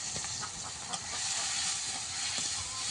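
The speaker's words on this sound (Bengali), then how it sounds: "এটা সুন্দরভাবে ভেজে নিতে হবে তেল দিয়ে।" Shrimp and taro stolons frying in hot oil with turmeric and salt give a steady, close hiss and sizzle with faint stirring clicks, no voices.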